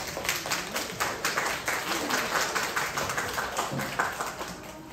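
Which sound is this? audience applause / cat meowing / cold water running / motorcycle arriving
audience applause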